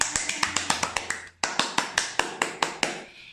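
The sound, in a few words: applause imitated with hands as a story sound effect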